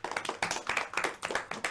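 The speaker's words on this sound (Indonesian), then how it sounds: "Beri tepuk tangan." A small group clapping in a classroom in quick, steady bursts for under two seconds, close and fairly loud, with no talking.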